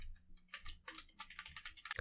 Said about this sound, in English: Let me press F5 from the keyboard